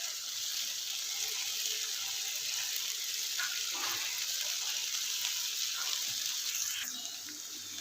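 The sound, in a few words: finely chopped garlic sizzling while lightly roasting in a pan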